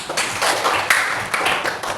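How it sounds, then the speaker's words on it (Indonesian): Indonesian classroom applause after a student's talk about being an architect, a brisk, dense patter of many hands clapping together, loud and close, filling the moment without talk. "Iya, tepuk tangan."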